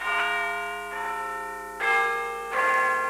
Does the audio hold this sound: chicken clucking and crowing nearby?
no